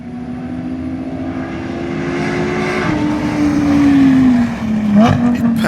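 A Lamborghini Huracan Performante and a Corvette C6 Z06 race on a track, one passing the other; a loud sustained engine drone rises and shifts in pitch, with wind and road roar, close to the microphone.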